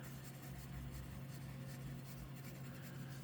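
A fountain pen loaded with Otto Hutt Fulmination Neroli scented ink scratches across plain copy paper, a faint steady rubbing close up over a low hum, no talk.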